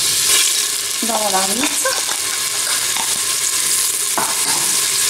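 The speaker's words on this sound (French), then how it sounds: "Je rajoute également l'ail et la coriandre et le céleri haché" Garlic, coriander and chopped celery sizzle in olive oil in a pot, making a loud, steady, close frying hiss throughout, with brief stirring knocks and a person speaking over it.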